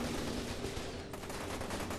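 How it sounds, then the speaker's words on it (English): Gunfire in the shooter game F.E.A.R. 2: Project Origin, a burst of rapid shots over a dense, faint game-audio background, with one sharper crack standing out midway. "What's with the gunshots?"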